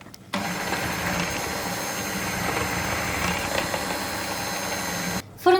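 Electric whisk beating tiramisu cake batter after cocoa is added, a steady continuous motor whir running for about five seconds before stopping abruptly.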